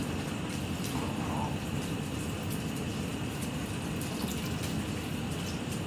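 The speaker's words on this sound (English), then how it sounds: "I'm gonna add just enough water to cover it" Water runs steadily from a tap into a pot of chopped potatoes, onions and celery for soup, a continuous even splashing rush with no talk.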